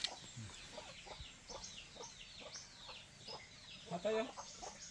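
Chickens cluck and squawk softly at a distance, with faint voices in the background and a louder cackle toward the end.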